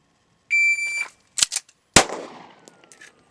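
A handgun is drawn from a holster with an empty chamber and fired: a sharp electronic timer beep, quick metallic clicks, then a single loud close gunshot followed by a decaying echo tail.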